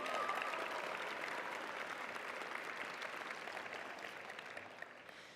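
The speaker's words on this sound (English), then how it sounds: "Yes, you may applaud them before I begin." Steady applause from a large crowd of guests at a high school graduation ceremony fills the hall, sustained at a moderate distance before slowly thinning out.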